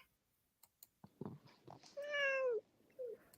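A cat gives one clear, drawn-out meow up close, then a shorter, softer mew, after some faint shuffling and small noises.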